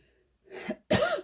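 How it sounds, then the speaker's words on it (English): Two dry coughs from a woman at home, a softer short one followed by a louder, harsher one, close and alone without talk. "If I have a dry cough, it's okay."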